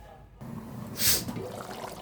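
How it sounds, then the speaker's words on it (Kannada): Peas and paneer gravy bubbling in a covered pot on the stove, a low steady simmer with one brief hiss of steam rising midway. "ನೋಡಿ ಚೆನ್ನಾಗಿ ಕುದೀತಾ ಇದೆ ಇದು"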